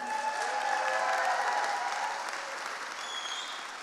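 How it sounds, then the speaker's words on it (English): Steady applause from a crowd at a horror game awards ceremony, loud and sustained, slowly thinning toward the end. "Can we get another round of applause for him?"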